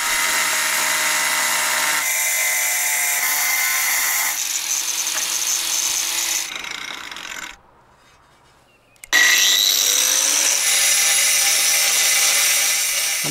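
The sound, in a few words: angle grinder with diamond disc cutting tiles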